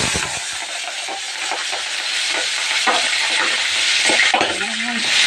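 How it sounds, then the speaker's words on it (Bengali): Fish oil heated with five-spice seeds in a wok for a bottle gourd greens dish, sizzling and spattering loudly and continuously with scattered crackling pops throughout. "মাছের তেলটা দেওয়ার পরে খুব ফুটছিল"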